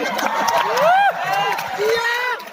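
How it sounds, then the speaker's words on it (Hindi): Audience at a student speech event in Kolkata cheering, with loud rising whoops and shouts over a bed of crowd noise and clapping, in a few bursts that build and fade. "हमारा सीनियर लीडर, हमारा भगवान हरी सर के ताली होने चाहिए"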